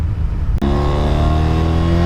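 The rotary engine of an abandoned pickup truck runs with new spark plugs, giving a loud, steady droning hum heard from inside the cab, with a brief dip before the tone settles and holds.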